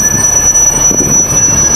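A train rolls into a station at night and slows, producing loud metallic rumbling and rattling of wagons with a faint squeal of wheels, continuous and close, with no voices.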